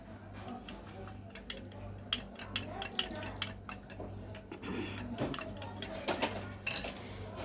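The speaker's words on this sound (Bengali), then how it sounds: "ভালো করে ডিম দিয়ে নুন গোলমরিচ সবের সাথে ভালো করে ফেটিয়ে নিতে হবে" Eggs with salt and pepper are beaten in a bowl with a utensil, giving a quick series of faint clinking taps and scrapes over a low steady hum.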